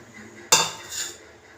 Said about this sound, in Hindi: तवा कलेजी के लिए हमने तवे के ऊपर थोड़ा सा ऑयल लिया है और इसमें हम अदरक और लहसुन का पेस्ट डालेंगे।